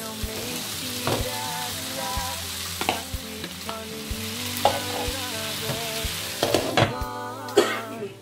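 Vegetables for ratatouille, with tomatoes just added, sizzle steadily in a pot over medium heat while a utensil stirs and scrapes, with occasional clinks against the metal; no talking.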